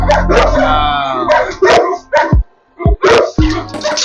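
Large Cane Corso dogs barking and yipping loudly up close, with whimpers and a long whine, in a series of bursts separated by short pauses.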